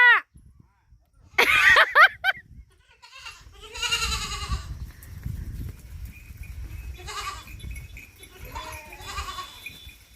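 Sheep in a village during a summer holiday bleat several times, close and fairly loud, with a low rumble of outdoor background noise between the calls.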